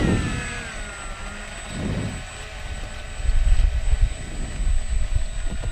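An electric FMS P-51 Mustang RC model plane taxiing out, its motor and prop giving a steady whine with breezy outdoor rumble, close and fairly loud, swelling louder in the second half.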